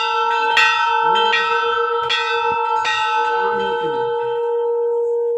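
A large metal bell at the main door of the Kedareshwar temple is struck repeatedly, four loud close clangs in a steady rhythm, its bright ringing tones sustaining and overlapping, then fading after the last strike.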